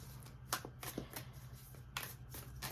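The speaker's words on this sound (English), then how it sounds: "So I'm going to do just a few more shuffles here." Oracle cards are shuffled by hand in a quiet room, several soft papery riffles and slaps repeating in an uneven rhythm, close and fairly faint.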